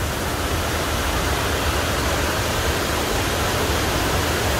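Broad, steady rushing of Burney Falls and its river pouring wide across the rocks at a campground, a dense continuous roar with no pauses, close and loud throughout, with no voices.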